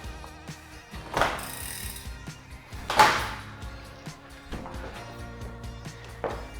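Screws being tightened on a bicycle aero bar: a few faint clicking, ratcheting mechanical turns with brief louder bursts around the middle, close by and quiet, with no talk.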